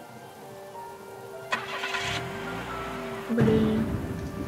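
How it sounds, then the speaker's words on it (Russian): Car in the Star Stable Online video game starting and driving away in the rain, an engine rising over a steady rain hiss with soft thunder; a short spoken exclamation is heard. "они уехали на машине, а нас оставили мокнуть под дождем"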